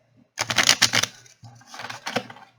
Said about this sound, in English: So I'm going to really quickly shuffle these.